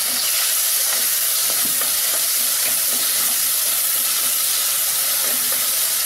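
Dry red chili crackling as it fries in sesame oil, a tempering for Chettinad country-chicken rasam; a steady close sizzle and hiss with faint stirring clicks, no talking.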